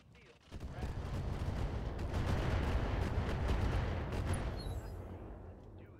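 Mech weapons firing in a RogueTech battle video game, a sustained roar of rapid impacts and explosions building after a quiet start, then fading slightly at the end.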